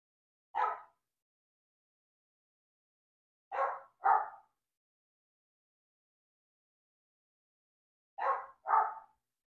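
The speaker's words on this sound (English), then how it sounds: "I don't know if you can hear my little dog barking," A small dog barks in short yappy bursts: one bark, then a pair, a pause, and another pair, fairly close with silence between.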